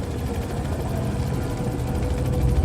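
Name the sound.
helicopter in Manhunt video game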